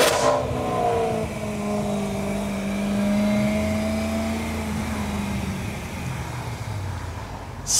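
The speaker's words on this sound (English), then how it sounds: "Such a good sounding, such a good looking car." Loud, close engine of a Mercedes E55 accelerating, the revs rising in a steady sweep and then easing into a lower cruising drone, with no voices.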